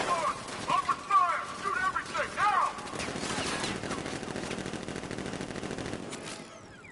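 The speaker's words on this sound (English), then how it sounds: "Open fire! Shoot everything, now!" Rapid automatic gunfire fills Batman: Arkham Knight gameplay, a dense sustained fusillade of shots following a voice shouting, with the firing continuing steadily and close for several seconds.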